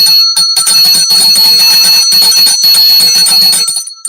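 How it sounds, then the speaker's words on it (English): A small bell rings continuously and loudly up close, a rapid bright jingling that holds steady for several seconds before cutting off. "You can clear by way of a bell."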